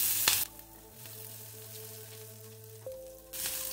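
Cumin, grated ginger and finely chopped green chilies sizzle in hot oil over a low flame. Bright crackling bursts open and close the moment, with a quieter, humming stretch between them.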